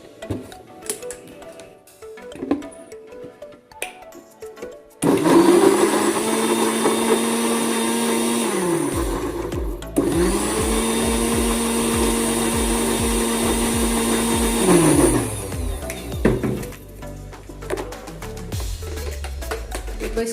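Mixer grinder grinding onions in a home kitchen: two loud bursts of steady high whine, each roughly five seconds long, with a short break between them, and quieter household sounds before and after.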